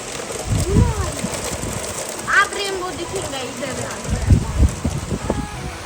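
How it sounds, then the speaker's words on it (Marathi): Heavy rain driven by strong wind pours down steadily in a village, a continuous broadband wash that lasts the whole stretch while voices talk over it. "पावसात उन्हात पाऊस चालू आहे पण लय जोरात आहे वारण पाऊस"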